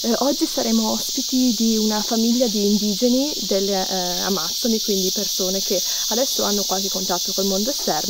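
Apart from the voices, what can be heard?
cicadas in the Amazon jungle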